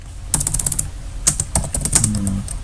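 Rapid, irregular keystrokes on a computer keyboard while code is typed for a JavaScript lesson, close and clear with short bursts and brief pauses, no voice over the clicking.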